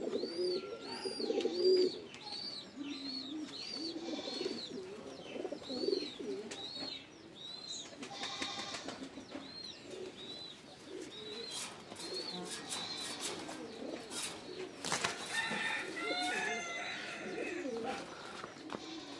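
Domestic pigeons kept for sale, one with clipped wing feathers now regrowing, coo in a run of repeated, rolling calls, close by and fairly soft, with faint chirps and rustling in the background.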